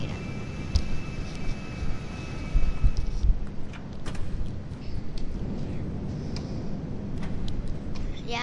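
Propeller airplane engine in GTA 5, a steady droning hum running throughout with faint ticking clicks on top, fairly quiet and unbroken.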